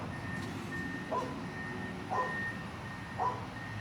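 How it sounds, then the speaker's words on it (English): A dog barks three times, distant and faint, about one second apart, over a steady background hum. "the dog."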